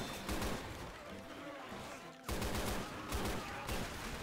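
Game gunfire in Left 4 Dead 2, dense automatic shooting that drops out briefly midway and then resumes loudly, with faint voices underneath.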